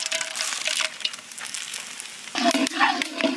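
Whole spices such as cinnamon, cardamom and cloves sizzle and crackle in hot oil for chicken biryani, a steady close frying hiss with occasional stirring scrapes.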